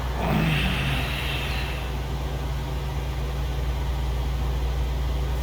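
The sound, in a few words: Mooney 232 aircraft engine at takeoff, Microsoft Flight Simulator VR game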